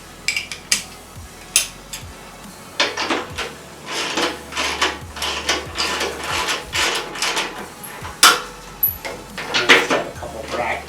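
A ratchet works bolts loose on a Craftsman tractor, giving scattered short metallic clicks and clanks at close range with brief pauses between bursts.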